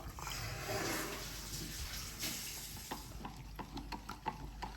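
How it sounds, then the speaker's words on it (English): Stock cube being stirred and melted into about 500 ml of water in a pan, a soft steady swishing and bubbling with light clinks of a utensil toward the end, close and fairly quiet. "So I'll just melt this stock cube."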